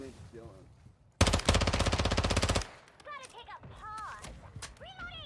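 A loud, rapid burst of automatic gunfire in the DMZ video game, lasting about a second and a half, with people talking before and after it.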